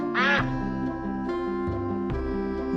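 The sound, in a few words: duck quacking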